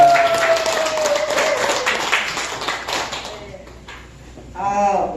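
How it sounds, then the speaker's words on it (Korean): An audience at a Korea Senior Citizens Association gathering applauds to welcome a professor as speaker, with dense clapping that fades out after about three seconds before a voice speaks near the end. "박수로 맞아주시기 바랍니다."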